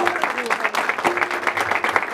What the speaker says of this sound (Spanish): El aplauso, por favor, para señor Carlos.